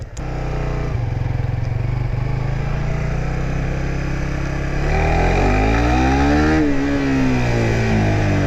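A Suzuki GSX-R150 motorcycle engine drones steadily and close, then its pitch swoops and falls as the rider rolls off for engine braking, with a slight rise and dip in tone near the end.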